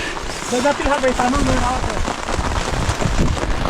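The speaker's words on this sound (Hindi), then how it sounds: "बारिश शुरू हो गई है।" Steady rain patters on a surface nearby at Sedgai Lake, a continuous hiss and drumming, while people talk over it.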